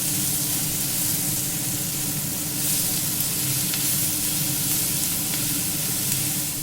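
Stirring a paneer masala with chilli powder and a pinch of sugar in a pan, a steady dense sizzle with continuous scraping and hiss throughout, close and fairly loud, no voices.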